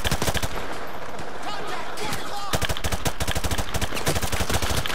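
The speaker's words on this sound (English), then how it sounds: "You can't clear these damn machine guns out of the White House." Rapid machine gun fire in Call of Duty Modern Warfare 2 Remastered, White House mission, dense loud bursts of repeated shots with a brief lull midway, then sustained fire; no clear talk.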